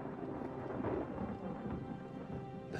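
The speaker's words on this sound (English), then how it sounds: "The thunder." Thunder rumbles low and continuously outside a dungeon with rain in the background, a dense, fairly quiet roll that swells slightly and then holds steady.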